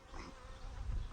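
Honey bees hum in an open hive during a hive check, a brief, soft, low droning buzz heard alone and fairly quiet.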